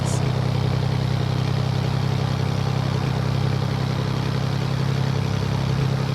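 Heavy truck engine droning steadily in Euro Truck Simulator 2, a loud low rumble that holds nearly constant throughout with a faint clatter layered on top, with no clear break for the gear change.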